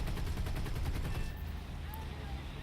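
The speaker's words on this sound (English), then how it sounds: "Even with just the one cannon that I have" A single aircraft cannon fires in the War Thunder video game, a rapid loud stream of evenly spaced shots lasting over a second, then cut off, leaving engine drone and faint background noise.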